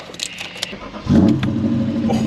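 A BMW E39 M5 engine idles quietly in neutral, then revs up sharply and holds a loud, throaty roar close by.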